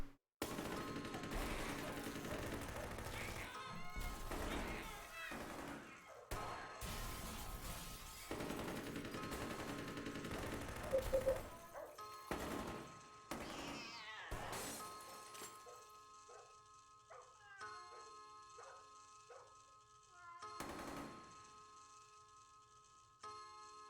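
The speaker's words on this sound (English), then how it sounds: "So then we hear the gunshots and the animal sounds" Bursts of rapid gunfire crackle and echo in Silent Hill 4: The Room, mixed with sharp animal-like cries and tonal game effects; loud, irregular volleys separated by brief pauses.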